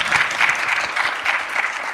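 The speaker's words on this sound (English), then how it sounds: "Can we give them a round of applause really quick here?" A live audience at a podcast show applauds with steady, dense clapping that fills the room briefly.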